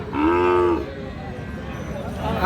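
A Sahiwal heifer lets out a single loud, close moo at a cattle market, followed by a low murmur of background crowd noise.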